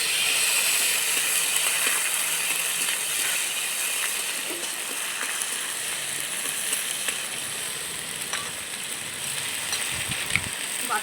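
Chopped tomatoes sizzle in a hot pan while a potato and tomato curry is cooked, giving a steady, fairly loud hiss with scattered crackles and clinks throughout.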